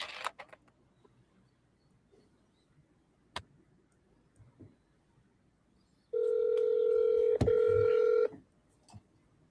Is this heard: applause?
no